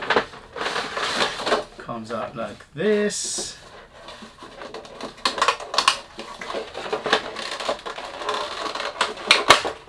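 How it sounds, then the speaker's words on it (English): Plastic wrap and cardboard packaging of a Pepe Jeans London Calling For Him perfume box crinkle, tear and clatter in close bursts throughout, mixed with a person talking nearby. "Sorry about the noise when you do unboxing, you can't do anything about it."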